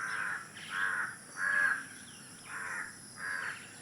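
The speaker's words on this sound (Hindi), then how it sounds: "देखिए कौवे की आवाज़।" A crow caws five times in a village at morning, in loud, drawn-out calls spaced about a second apart, with no other sound competing.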